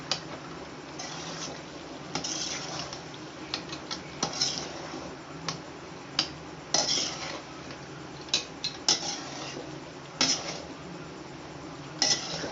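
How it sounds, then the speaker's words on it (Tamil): Pasta and chopped vegetables stirred together in a pan on a stove, with a steady clatter of a utensil scraping and knocking against the metal and sharp clinks every second or so, close and moderately loud, without talk. "இது எல்லாமே இதில் சேர்ற மாதிரி கிண்டி விடணும்."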